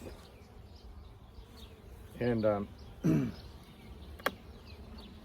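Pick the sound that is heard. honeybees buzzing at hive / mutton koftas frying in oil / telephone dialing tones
honeybees buzzing at hive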